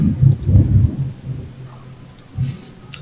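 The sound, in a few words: thunder from a large thunderstorm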